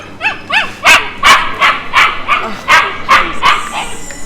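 A dog barks excitedly in a rapid series of sharp, close yaps, with a few high whiny yelps at the start.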